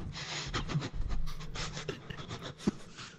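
Rapid, heavy panting breaths repeat in an uneven rhythm, close and fairly quiet, with a few sharp catches in between.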